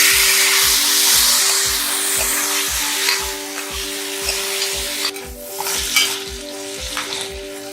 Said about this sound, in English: 1 teaspoon of cumin seeds, 1 teaspoon of mustard seeds. Allow them to splutter.